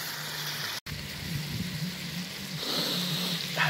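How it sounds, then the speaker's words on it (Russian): Onion and spices frying in a kazan over a campfire give off a steady, soft sizzle with a constant crackling hiss, broken by one brief dropout near the start. "Добавили лук и специи. Так обжариваем 5-7 минут."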